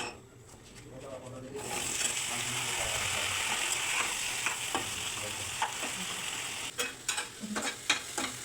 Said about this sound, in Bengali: বেগুন ভাজা হচ্ছে নিম পাতার জন্য।